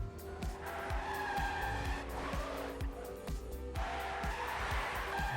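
A racing car in a video game, its engine revving up and down through repeated gear shifts with tire squeals and skids, loud and continuous with no voices.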